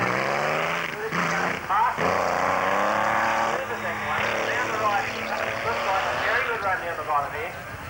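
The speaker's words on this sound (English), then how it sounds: "He's supercharging, here's the noise, the difference in the sound of this engine." A supercharged hill climb race car at King Edward Park accelerates up the course, its engine revving and changing pitch in repeated rising bursts under a continuous commentary voice.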